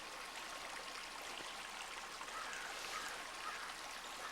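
Water flows along a roadside ditch line as a continuous soft, faint rushing trickle, heard steadily without any voices.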